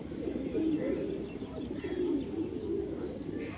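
Low, rolling cooing from a black female pigeon and others in a loft at dusk, steady and fairly close throughout with a few faint chirps above.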